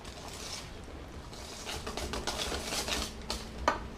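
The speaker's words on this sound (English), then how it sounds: "And just whisk that together carefully." A whisk beats tepid whole milk into wet ingredients for Australian lamington cake batter in a bowl, making faint, quick clicking and scraping against the sides that turns busier midway.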